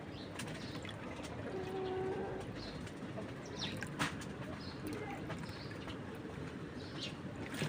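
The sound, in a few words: pigeons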